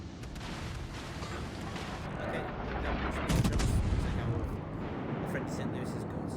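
Naval gunfire and heavy shell impacts in World of Warships Legends, a dense rumbling barrage that swells mid-clip with booming salvos under a continuous game soundscape, with someone talking over it.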